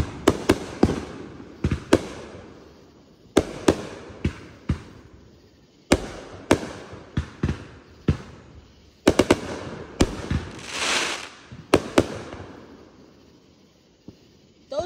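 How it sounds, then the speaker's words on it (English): Independence Day fireworks bursting at a distance in irregular clusters of sharp cracks and booms, each followed by crackling fizz, with no voices. "Those are beautiful fireworks."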